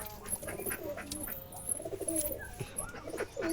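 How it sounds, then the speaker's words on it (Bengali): A brown Jalali pigeon coos softly in low, repeated rolling calls, close by, with faint background noise. "এটা একটা খয়েরি জালালি কবুতর"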